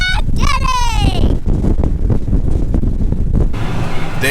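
Strong wind blows across an Illinois farm field during spring corn and soybean planting, loud rumbling gusts battering the microphone, with high voices calling out at the start and end.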